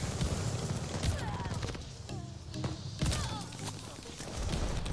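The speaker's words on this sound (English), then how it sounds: "I'm always using my shotgun." Shotgun fire in the video game Call of Duty Vanguard, several heavy booming blasts spaced apart over a dense, noisy battle bed, with voices briefly audible in between.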